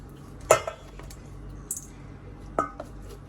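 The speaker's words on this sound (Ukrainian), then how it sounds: "Нарізали перчик і ось так в баночку накладаємо" Sliced hot peppers dropped into a glass jar, giving a few distinct clinks and knocks of glass spaced apart, with soft rustling between them and no one talking.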